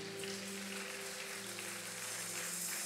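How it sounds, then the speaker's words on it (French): A church congregation claps during a service, a dense, subdued patter of many hands that holds steady and fairly faint throughout with no voices over it. "Vos acclamations sont timides."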